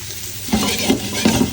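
Onions stir-fried in a pan sizzle close up, with three rhythmic scraping strokes of a utensil stirring them.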